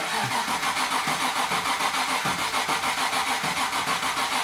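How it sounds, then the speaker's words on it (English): V8 Land Rover Defender 130 with a suspected failing petrol fuel pump, cranking repeatedly without catching: a steady, rhythmic churning of the starter, close and loud, with no talking. "Gary, do you want to just give it a try, see if it'll start?"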